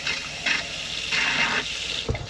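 Water gushes steadily from a tap fed by a Whale water pump after air is purged from the system, a close, loud rushing stream with small sputters as it flows.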